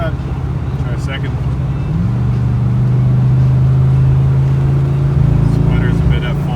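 A 1983 Oldsmobile Cutlass Supreme with a carburetor fault pulls hard at full throttle on the highway, its steady engine drone rising through a gear change, loud and close from inside the car, with an occasional slight sputter.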